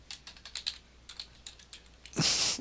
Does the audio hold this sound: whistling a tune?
no